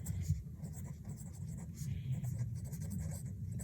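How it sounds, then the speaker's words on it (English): A pen scratches across paper in quick, steady strokes at close range while a person talks softly over it. "how could I write my thoughts down onto the paper?"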